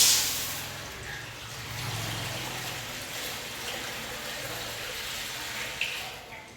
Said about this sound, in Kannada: ಈಗ ಬಿಸಿಬೇಳೆ ಬಾತಿಗೆ ನೀರನ್ನ ಹಾಕೊಳ್ತಾ ಇದ್ದೀನಿ